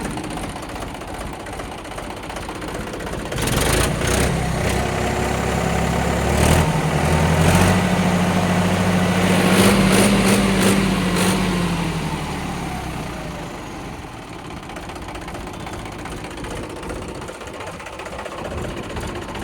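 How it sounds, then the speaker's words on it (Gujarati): A used tractor's engine idles after starting, a low steady rumble that swells louder through the middle with a droning tone and a few sharp knocks, then settles back to a quieter idle. "એન્જિન સ્ટાર્ટ કરી દીધું છે."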